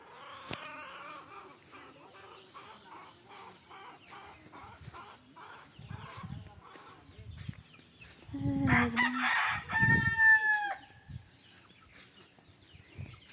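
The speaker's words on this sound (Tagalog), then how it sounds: "Dami manok, katayin na natin yan." Chickens cluck in short bursts, then a rooster crows loudly nearby, with faint background voices and rustling.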